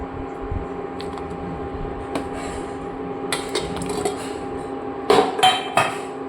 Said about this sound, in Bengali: এরকম করে কেটে রাখা এঁচড়গুলো দিয়ে দেবো এর মধ্যে